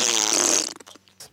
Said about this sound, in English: man, there's a lot of farts.